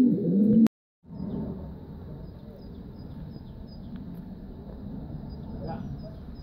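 A racing pigeon coos softly during a prize flight race, with a low, steady murmur of cooing heard close by after a brief loud thump.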